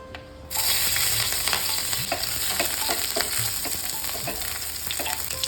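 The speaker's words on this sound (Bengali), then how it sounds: "তেলটা গরম হয়ে গেছে, প্রথমেই দিয়ে দেবো লঙ্কাটা" Hot oil sizzles loudly and steadily after a brief quieter start as chili is added, with scattered pops and crackles across the whole stretch; no voices.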